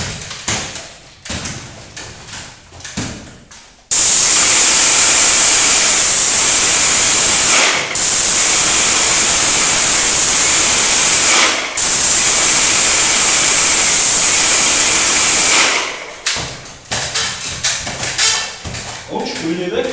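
A Wagner ProjectPro 117 airless paint sprayer lets out two long, loud, steady hissing bursts, each several seconds long with a short gap between them. Clattering handling noises come before and after.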